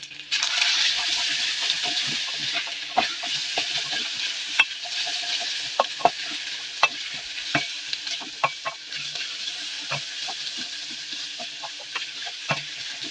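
Onions frying in a pan for a toasted cheese and onion sandwich, with a steady close sizzle and frequent sharp taps and scrapes of a utensil stirring them.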